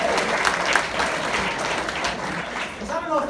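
A comedy club crowd claps and cheers in steady, dense applause that fills the room, with a voice rising over it near the end.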